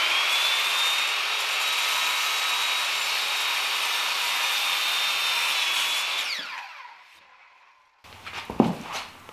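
A hand saw cuts across timber for a timber-frame brace, giving about six seconds of steady, close rasping strokes. The sawing then fades out and is followed by a few knocks and handling sounds.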